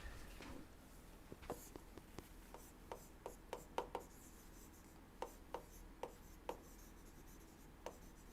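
Chalk or a marker taps and scratches across a board during an engineering lecture, a quiet, irregular run of short clicks and strokes spread across the stretch with steady room hum beneath.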